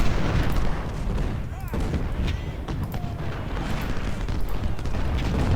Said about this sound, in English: Howitzers, shoot on the guys that expose their flank.